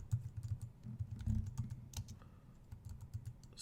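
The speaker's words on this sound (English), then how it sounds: "hit the enter key" Rapid keystrokes on a computer keyboard as a password is typed in, a close, steady run of soft clicks lasting several seconds with no talking.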